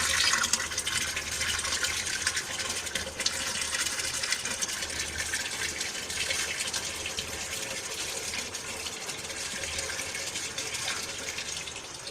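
Steady, continuous rush of water running from a tap, constant and fairly close, with no voices.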